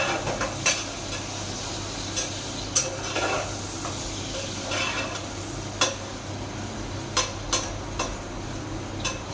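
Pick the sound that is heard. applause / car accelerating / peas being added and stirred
peas being added and stirred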